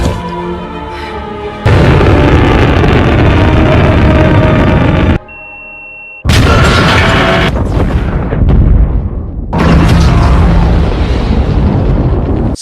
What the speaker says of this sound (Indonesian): Setelah pesawatnya meledak dan emasnya bertebaran kemana-mana